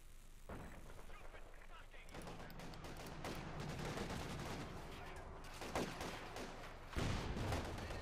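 Armor-piercing rounds fired at a Soviet T-34 tank in Company of Heroes 2, a series of sharp shots and heavy thumps over continuous battle noise, with a voice speaking throughout.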